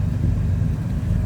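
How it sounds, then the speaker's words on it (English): Exhaust from a 1950 Chevrolet Fleetline Deluxe with a 235 cubic inch inline six rumbles at idle, a steady low, close throb heard alone. "Nice little rumble coming out of that 235 cubic inch inline six."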